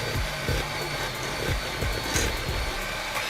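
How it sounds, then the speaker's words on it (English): An electric stand mixer runs on slow speed, beating a chess pie filling, giving a steady whirring hum with a soft repeating thump from the beater about every half second, close and continuous with no talk. "So we're going to start the mixer here on slow."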